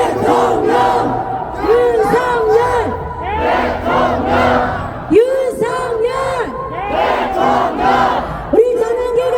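A large crowd at a rally opposing a presidential impeachment in Cheonan loudly chants President Yoon Suk-yeol's name in repeated rhythmic bursts, voices swelling and falling together with some shouting mixed in.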